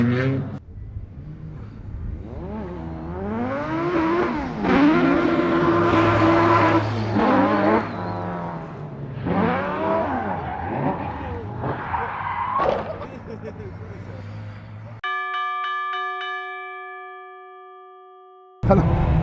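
A Mitsubishi Minica kei drift car fitted with twin Hayabusa engines of about 350 hp screams at high revs, the engine pitch rising and falling through gear changes amid tire squeal, before cutting to a lingering electronic chime.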